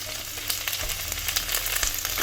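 Steady crackling sizzle of shallots frying in hot oil, continuous and close, with occasional sharper pops.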